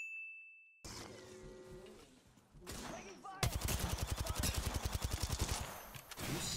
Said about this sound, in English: Oh, I'm being shot at from behind too.